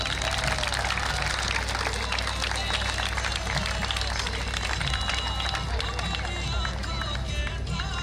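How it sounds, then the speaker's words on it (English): Dense, sustained applause from an audience at the closing of a Ramleela festival night on Knox Street, loud and continuous clapping with crowd babble mixed in. "Let's have a last round of applause for them."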